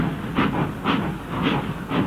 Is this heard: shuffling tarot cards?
no